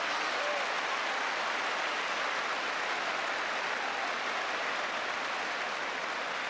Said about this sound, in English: Great applause from the crowd.